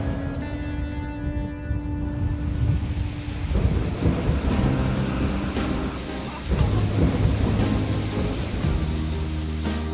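A thunderstorm in drought country south of Broken Hill: heavy rain hisses steadily on surfaces, loud and close, with deep rolling thunder rumbling through it and swelling twice.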